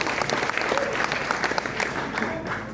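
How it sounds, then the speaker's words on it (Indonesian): Applause for a district delegation at a PDI Perjuangan party consolidation rally in Bangli, with a crowd clapping steadily and fairly loudly throughout with some cheering mixed in. "tepuk tangan untuk Susut"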